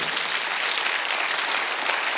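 A church congregation claps during a Korean Sunday worship sermon, producing dense, sustained, even applause that fills the room without a break.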